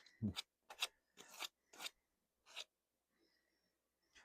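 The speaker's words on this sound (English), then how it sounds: "A little sandpaper on the rotor here." Sandpaper rubs over the motor rotor of a vintage Sears Lasko box fan in about six short, close, quiet scraping strokes with brief pauses between them.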